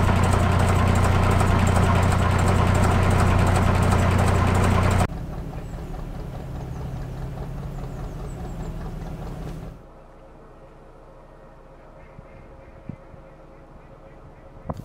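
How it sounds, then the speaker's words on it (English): Gardner diesel engine of a narrowboat on a canal, a loud steady low-pitched idle and chug that drops in level twice as the boat moves on, ending faint with a few light knocks. "She has a gorgeous sounding Gardner engine."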